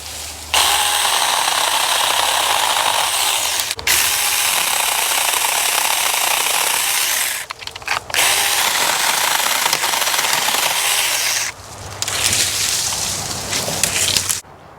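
Loud, continuous buzzing of a mini chainsaw cutting tree branches, running in long bursts with brief pauses between cuts.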